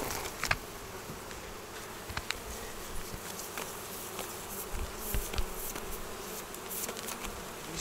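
Many honeybees hum steadily close by at an open hive as frames are removed, a continuous drone with occasional knocks and handling noises.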